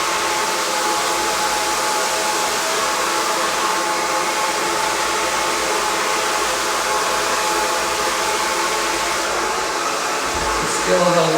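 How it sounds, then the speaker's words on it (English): A handheld hair dryer blow-drying hair at home, a loud steady whoosh and motor whine running continuously and close up, with a brief bump near the end. "If I wanted it back, I would be blow drying this way."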